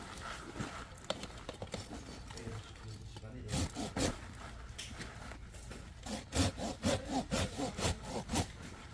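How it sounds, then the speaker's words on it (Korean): A hand saw cuts through the wood of a dug-up tree, rough rasping strokes that start irregular and settle into a quick steady back-and-forth rhythm near the end, with someone talking between strokes. "이렇게 해서 톱으로 잘라 볼까요?"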